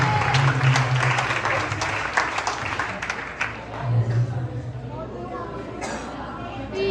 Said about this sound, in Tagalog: isang malakas na palakpak para po sa Panginoon